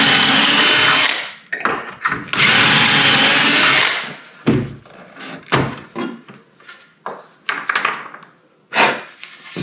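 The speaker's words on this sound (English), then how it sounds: "we're gonna put pocket holes in the 1x4s that we just cut, top and bottom" Pocket holes being drilled into freshly cut 1x4 wood boards, top and bottom: two long, loud whining drill bursts near the start, then a series of short knocks and clunks of the jig and boards being handled.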